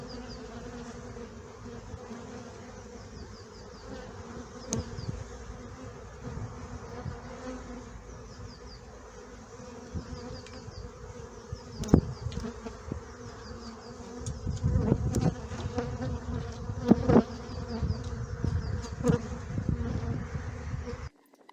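A dense hum of many honeybees buzzing at an open hive during honey production, low and steady, swelling louder toward the end with occasional sharper passes close by.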